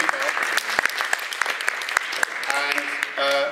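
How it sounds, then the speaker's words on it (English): Audience applause for panellists at a 2018 Ealing Southall election hustings, a steady patter of many hands clapping close by, with a voice speaking over the last second. "Please join in the applause."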